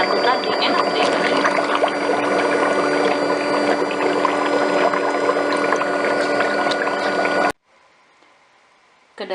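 Foot spa bath churns soapy water with a continuous loud bubbling hum that cuts off abruptly near the end, leaving near silence.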